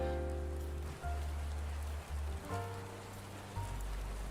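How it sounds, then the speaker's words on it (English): Rain sound playing quietly in a livestream, a soft steady hiss of rainfall on a surface with faint low hum tones under it, no voices. "You turn down the rain a little bit."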